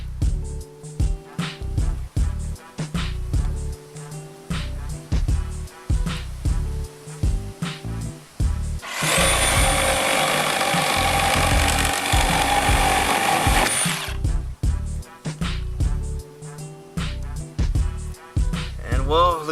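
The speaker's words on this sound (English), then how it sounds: "now we're gonna start with the Dewalt with the brand new blade, same exact blade, and same material, 4x4, pressure treated" Dewalt 60V reciprocating saw with a brand new blade cutting through pressure-treated 4x4 wood, a loud continuous buzzing cut lasting about five seconds in the middle, with clattering handling and tool noises before and after.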